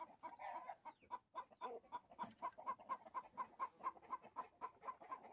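Hens cluck in a steady rapid rhythm, close and repeated, in a rural henhouse where they lay eggs in the Chihuahua sierra, with no talk over them.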